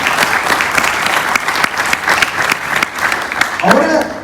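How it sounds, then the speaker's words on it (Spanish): A church congregation bursts into loud, sustained applause, dense clapping filling the space with a few voices rising through it and a cheer swelling near the end. "Denle un fuerte aplauso a nuestro Padre"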